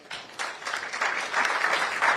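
Audience applause at a school award ceremony, a dense wash of many hands clapping that swells after a soft start and holds steady for a couple of seconds.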